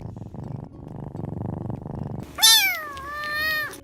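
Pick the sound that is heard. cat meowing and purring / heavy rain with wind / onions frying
cat meowing and purring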